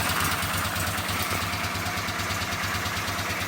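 Honda GL500 (CX500) twin engine running close and steady with a fast regular pulse and a faint pop partway through, without any voices.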